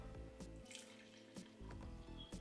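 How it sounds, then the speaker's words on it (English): Ginger drink poured straight into a cup: a soft, close trickle with small splashes and drips, faint and uneven across a couple of seconds, with no talking. "pour it straight inside of the cup"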